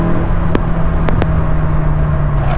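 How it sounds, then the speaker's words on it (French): A Citroen Saxo VTS 16-valve hot hatch on the move, its engine drawing air through the intake with a steady, loud, close droning hum inside the cabin, broken by a few brief clicks. "On entend la voiture qui aspire l'air déjà"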